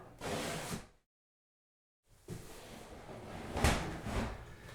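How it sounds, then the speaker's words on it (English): A bathroom door is shut in a small bathroom during a sheet vinyl flooring job: a short burst of rustling and shuffling comes first, then a pause of silence, then a muffled closing thud amid close handling noise. "Close the door."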